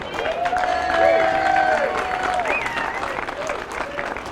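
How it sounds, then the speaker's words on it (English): Audience applause at a memorial gathering on Revere Beach, with steady clapping and some cheering mixed with crowd noise and a tonal whistle-like sound early on, fairly loud throughout. "Please applaud him."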